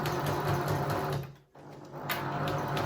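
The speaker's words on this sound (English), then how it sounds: "Do a couple of back stitches to secure, and then keep sewing" A sewing machine runs steadily while stitching down quilt binding, with a brief pause midway before the motor resumes its fast, even whirring hum. It is close and loud, with no voices.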